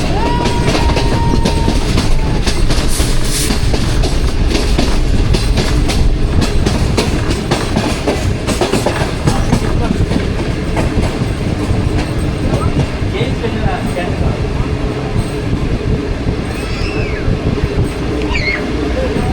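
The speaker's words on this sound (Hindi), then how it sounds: "और लाहौर कैंट से पास हो गई ट्रेन।" Pak Business Express passenger train running on rails between Karachi and Lahore, heard from on board as a steady loud rumble with wheel clatter throughout, a brief horn-like tone early on, and voices murmuring underneath.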